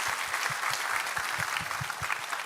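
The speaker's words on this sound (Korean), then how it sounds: "우리의 감사와 격려의 박수 드리도록 하겠습니다." Church congregation applauding a women's trio after a special music performance during a Sunday worship service, a steady dense wash of many hands clapping continuously throughout, fairly close and alone.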